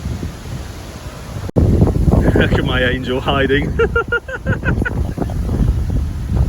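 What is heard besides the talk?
strong wind blowing around a narrowboat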